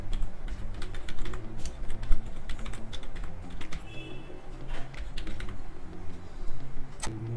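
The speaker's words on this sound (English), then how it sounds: "So again I will type the first email address over here." Rapid, uneven clatter of keys on a computer keyboard as an email address is typed into an Excel spreadsheet, steady close-up tapping with no voice.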